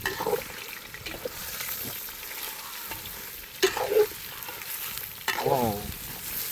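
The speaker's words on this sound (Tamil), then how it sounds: "நம்ம எப்பவுமே கறி எண்ணெயில் போட்டு நல்லா வதக்கணும்" Meat sizzles and fries in hot oil while being stirred, with soft scraping and clattering stir strokes and brief louder clinks over a quiet, steady crackle, no voices.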